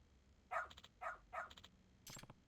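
A dog in the video game Lost Judgment barks three times in an even rhythm, then gives a brighter, higher yelp. The barks are fairly close and moderately loud over a quiet background.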